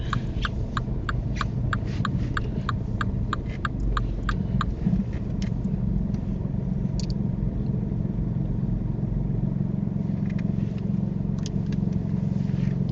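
A car creeps forward into a parking bay during a UK driving test, with a low steady engine hum heard from inside the cabin and a quick run of ticking indicator clicks early on, and no talking.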